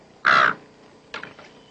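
A crow gives one loud, harsh caw, followed after a short pause by a fainter, broken second call, with no other sound around it.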